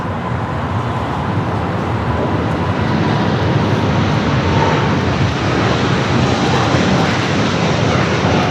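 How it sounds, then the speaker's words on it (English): A Boeing 747-8 freighter jet roars steadily at an airport, a loud, broad, continuous engine rush that holds throughout without a break. "747-8 freighter heading to Luxembourg"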